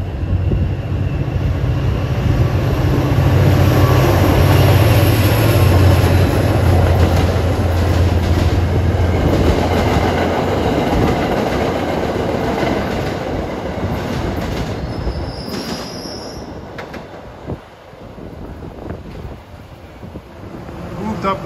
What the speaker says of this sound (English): here comes Train 205 for Bradford with a nice F40PH-3C.